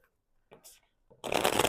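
Tarot cards being shuffled by hand: a couple of short soft riffles, then a louder, dense burst of card flutter close to the microphone.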